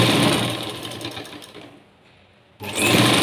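A sewing machine stitches piping cloth and a waist belt onto a blouse, a loud close whirring run that slows and fades to near quiet, then abruptly starts up again at full speed.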